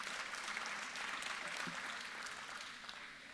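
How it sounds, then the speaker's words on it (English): A trade-week audience applauds a panel, producing a steady wash of many hands clapping at a fairly distant, quiet level that tapers off slightly at the close. "So if we can, another round of applause for our amazing panel."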